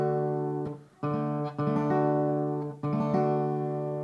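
Acoustic guitar triple roll played in D, several quick rolled picking bursts with ringing harmonic notes, separated by brief gaps, close and clear with no talking.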